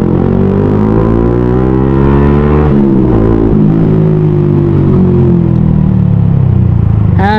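A Yamaha Sniper 155 motorcycle fitted with a TRC exhaust pipe revs up loud and close, its note climbing in pitch, dropping as the throttle eases, then rising steadily again before a final sharp blip.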